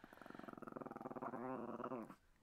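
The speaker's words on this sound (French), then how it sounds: "mais Gizmo, c'est pas mon chien de garde" A small dog growls up close: a rumbling growl that pulses in short bursts, then becomes one sustained, rising growl before it cuts off.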